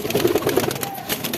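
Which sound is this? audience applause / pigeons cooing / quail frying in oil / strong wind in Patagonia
pigeons cooing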